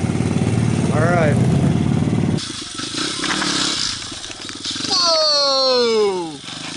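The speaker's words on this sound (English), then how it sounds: "But first we're gonna go rip some wheelies and do some drifts on these things." A Honda XR100 pit bike engine revs and climbs in pitch through wheelies in snow, loud and close, rising and falling in rapid sweeps with people talking over parts of it.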